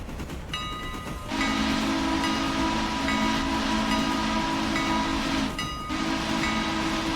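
A Mikado steam locomotive in the Railroader train simulator game runs with a continuous rolling rumble, broken by two long, loud whistle blasts, the second following a brief pause.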